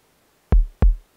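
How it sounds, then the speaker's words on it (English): Two heavy, thudding heartbeat pulses from a machine in the video game Minecraft, evenly spaced about a third of a second apart, loud and close against near silence. "Hear the heartbeat, the machine. You can turn the heartbeat off."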